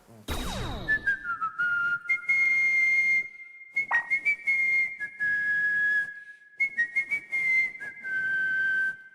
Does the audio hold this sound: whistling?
yes